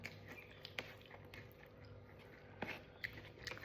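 Close chewing and biting while eating a home-cooked lunch of tangra fish, soft wet crunches and mouth clicks in an irregular rhythm, quiet and near with no talking.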